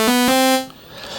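A dry single sawtooth synth preset on an Akai Force, one loud bright buzzy note held for about half a second and then cut off, with no reverb tail.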